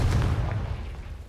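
A single Confringo explosive spell from Hogwarts Legacy lands with a deep booming burst that quickly decays into a low rumble, brief and close.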